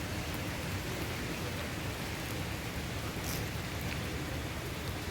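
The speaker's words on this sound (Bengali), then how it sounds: "প্রচণ্ড বৃষ্টি পড়ছে" Heavy rain pours down at night in a dense, even hiss of countless drops that stays constant throughout, with no voices over it.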